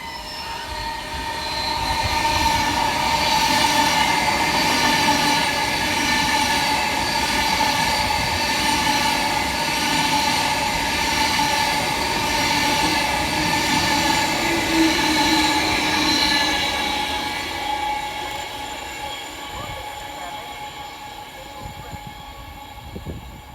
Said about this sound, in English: Passing through the station, running 24 minutes late, is 390-151, working 1H08 from London Euston through to Manchester Piccadilly